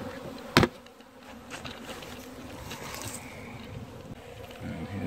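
A crowd of honeybees feeds on sugar syrup at an open springtime feeder, making a continuous, even buzz after a single sharp click at the beginning.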